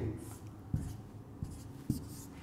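Strokes scratch and tap on a board during a chemistry lecture on polymers, a soft rhythmic series of brushing sounds with a sharper knock roughly every half second.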